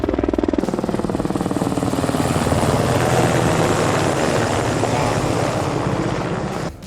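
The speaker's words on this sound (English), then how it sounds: "look at this helicopter right now." Helicopter flying overhead on a foggy day, its dense rotor chop loud and steady throughout, swelling slightly as it passes close.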